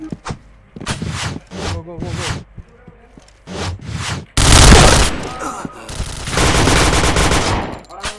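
Rifle gunfire in a competitive tactical video game match, rapid bursts of automatic shots loud and close, with players talking in short exchanges over and between the firing.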